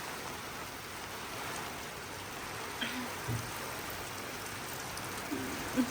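Steady rain hisses continuously at moderate volume, with strong wind and a few faint knocks and taps breaking through.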